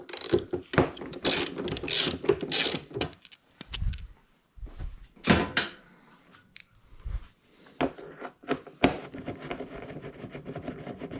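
A wrench works loose the seat bolts on a Daytona 675R supersport motorcycle, giving close bursts of rapid ratchet clicking separated by short pauses and metallic taps, with no talk.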